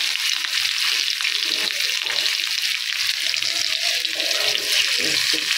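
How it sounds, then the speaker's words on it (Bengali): Chopped onions go into hot oil previously used for frying hilsa fish heads and produce a steady, bright sizzling hiss that carries evenly and alone. "এবার এই তেলেই পেঁয়াজ কুচি দিয়ে দেবো"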